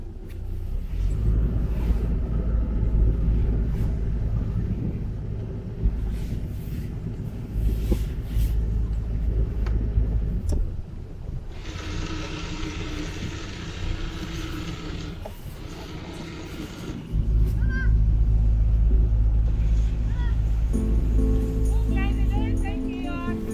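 Canal boat engine on the Caledonian Canal driving into the first lock of the Fort Augustus staircase, a deep steady low rumble that rises in two louder stretches, with people talking over it.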